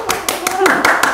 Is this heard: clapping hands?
yes